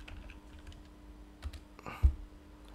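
A terminal command is typed on a computer keyboard, with a few soft, close keystrokes followed by a sharper key press near the end over a quiet room hum.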